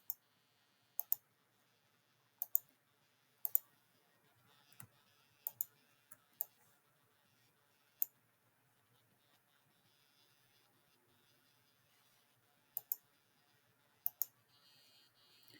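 Crisp computer mouse clicks while GIS features are dragged and selected on screen, coming as sharp isolated single and double clicks spread unevenly over quiet background, close and clear with no speech.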